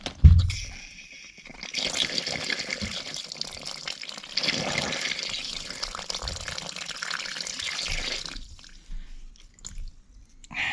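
Water runs steadily through the valves of a microbore central heating pipe system with non-barrier pipe, a continuous rushing flow that holds for several seconds and then drops away near the end.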